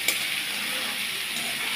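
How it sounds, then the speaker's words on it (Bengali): Bitter gourd pieces frying in hot oil with spices, a steady even hiss and sizzle that stays level throughout, close and continuous with no talking. "এইবার আমি উচ্ছেগুলোকে একটু ভাজা ভাজা করব।"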